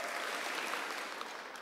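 Congregation clapping during a church service, a faint, steady wash of many hands applauding together with no voices over it.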